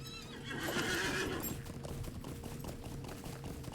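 A horse in the video game LOTRO whinnies loudly near the start, followed by steady hoofbeats clopping along under a continuous game-like background.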